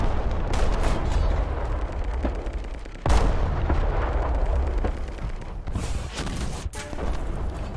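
Tank cannon fire in War Thunder: loud, deep gunshot-like blasts with rumbling battlefield noise between them, including one sharp nearby shot partway through, with no talking.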